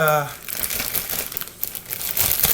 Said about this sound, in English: you guys just put it in a plastic bag, Ziploc bag, just like that.